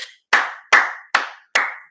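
Four sharp, evenly spaced hand claps, loud and close, each with a short decay and nothing else heard.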